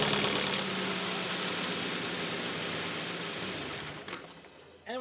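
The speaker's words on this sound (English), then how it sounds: "So next we're going to start the car and let it run for about maybe 40 seconds or so." A Hyundai Tucson engine idles steadily right after an oil and filter change, a continuous close, fairly loud rumble that thins slightly near the end, with no talking over it.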